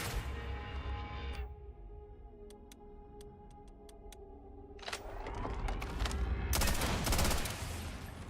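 Gunfire in Starfield as a modulator is shot, with bursts of rapid shots and crackling impacts at the start and again in the later half, separated by a humming, ticking electronic stretch, loud and close.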